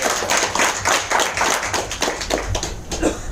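Dense, steady clapping from many hands fills the whole stretch, close and fairly loud, with no voices over it.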